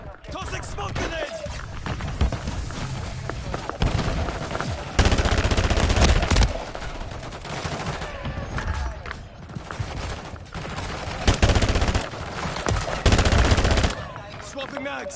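Rapid automatic gunfire in the shooter game Modern Warfare III rattles in dense, loud bursts with heavier volleys and short gaps, while a voice calls out over the shooting.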